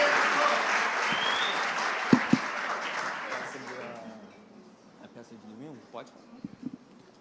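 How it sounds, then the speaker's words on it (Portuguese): A church congregation at a Sunday celebration service bursts into loud, dense applause that fills the first four seconds, then fades away while a voice talks in the quieter tail. "Vamos aplaudir Jesus pela vida do Natan aí, ó."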